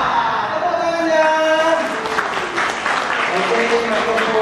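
Audience applause at a halal bihalal and launching event for an umrah and hajj travel company in Kediri, a steady clapping wash that holds for several seconds with voices and tonal sound running over it.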